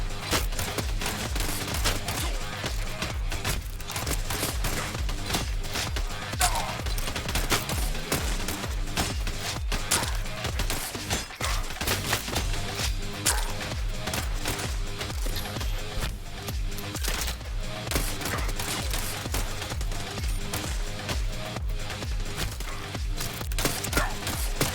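Rapid, relentless shotgun fire in the CyberCorp demo, a steady stream of sharp blasts packed closely together over a continuous game music bed, with no talk.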